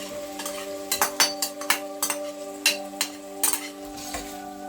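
Brinjal stirred into sautéed onions in a pan for vangi bath: a soft sizzle underneath a series of distinct spatula scrapes and clinks against the pan, roughly a dozen strokes in uneven rhythm, close and clear.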